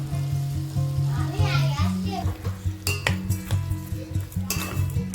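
A spoon stirs pineapple curry with turmeric, chili flakes and sugar in a pan. It gives close, repeated scraping and clinking against the metal over a soft sizzle, while a voice talks throughout.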